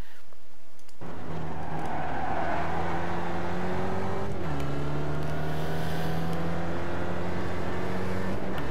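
SRF race car engine lapping Barber in the iRacing sim, a loud, close drone whose pitch climbs steadily under throttle, drops sharply at an upshift midway, then climbs again.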